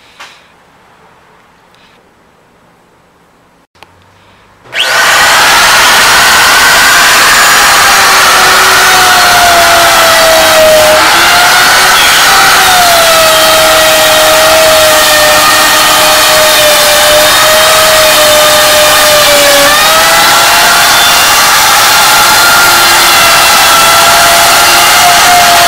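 A router fitted with a flush trim bit cuts along the edge of a masonite workbench top, spinning up suddenly after near silence into a loud, high, sustained whine whose pitch dips slightly as it bites into the board.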